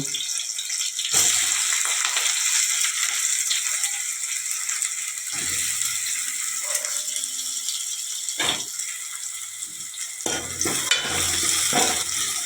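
Onions, chilies, cumin and fenugreek fry in a pan for a Telangana-style fish curry, a steady close sizzle with rattling stirs and occasional clanks of the spoon against the pan.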